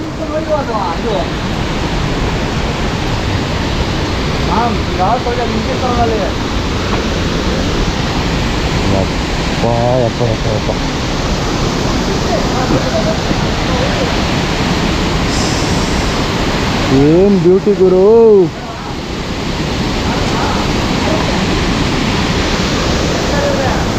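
Ukkada waterfall in the Bhadra Tiger Reserve forest during the rainy season, heard as a steady, loud, broadband rush of falling water with a brief whistling warble partway through.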